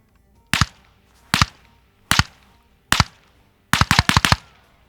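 Suppressed gunshots from a Strategic Sciences MFMD fitted with an SDX suppressor at an outdoor range: four sharp single reports spaced evenly apart, then a rapid burst of four quick shots, each crisp and short with little lingering tail.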